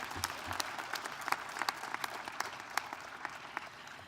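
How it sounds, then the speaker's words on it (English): A hall audience at a 20th anniversary celebration breaks into a sustained round of applause, dense overlapping claps holding steady and fairly close for the whole stretch with no talk over it. "let's give ourselves and you a round of applause"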